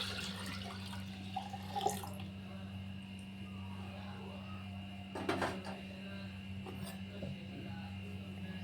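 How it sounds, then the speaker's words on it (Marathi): Milk poured into a clay pot (matka) while making homemade curd, a soft watery trickle with brief splashy bursts near 2 and 5 seconds over a steady low hum. "इथं मटक्यामध्ये हे दूध टाकून घ्यायचं"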